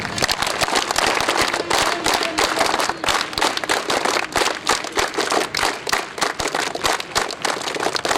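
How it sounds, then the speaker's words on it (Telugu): A crowd of participants at a taekwondo self-defense awareness program on a police parade ground claps in rhythmic patterned bursts, many hands together, loud and continuous with repeating groupings. "మన టైక్వాండో క్లాప్స్ 1 2 1 2 3"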